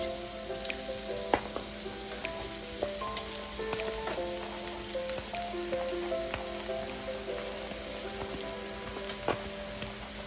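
Rice sizzles and fries in meat stock and oil in a single pot for Ghanaian fried rice, a steady crackling bed with scattered pops and light stirring clinks throughout.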